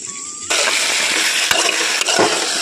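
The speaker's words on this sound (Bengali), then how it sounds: "এইদিকে ঢ্যাঁড়সগুলো আমার ভাজা হয়ে আসছে।" Okra frying in a pan, a steady broadband sizzle that jumps louder after a short quieter start and holds continuously, with a few brief stirring clatters along the way; no one speaks.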